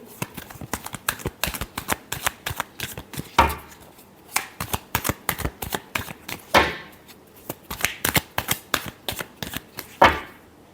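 Tarot cards being shuffled by hand, close and crisp: quick rhythmic riffles and flicks in repeated bursts, with a few louder snaps between runs.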